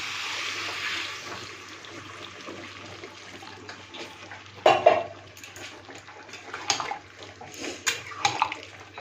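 Water is poured into a pan of fish curry made with katla fish, drumsticks and potatoes. A steady splashing pour comes first, then a few louder splashes and knocks.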